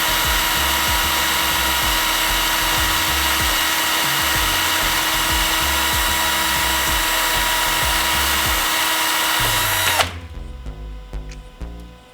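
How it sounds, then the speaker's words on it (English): A power drill spins a small part glued to a flathead screw while it is sanded, a loud steady high whine with rhythmic scraping pulses for about ten seconds, then it stops and winds down. "glue it to a flathead screw, stick it in the drill, and then sand it that way"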